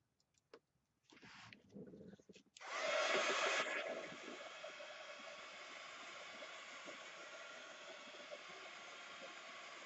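A hair dryer blows on artwork, starting after a few soft handling sounds with a strong rush of air that then settles into a steady, moderately loud whirring hum.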